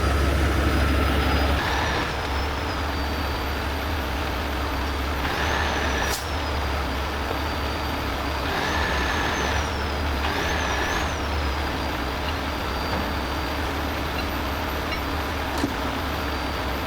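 Heavy trucks at a rigging job site, a steady low engine rumble with several hissing air-brake releases and a high whine rising and falling, no talk.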